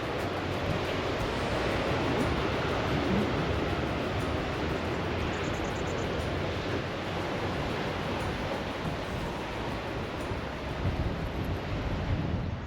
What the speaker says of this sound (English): Oh, look at that wave.